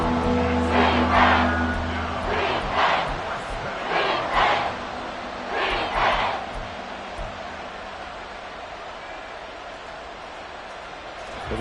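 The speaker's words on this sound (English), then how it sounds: "this crowd trying to force a false start here." Stadium crowd in an American football video game roars in several surging bursts over the first seven seconds, then settles into a steady, distant murmur of crowd noise.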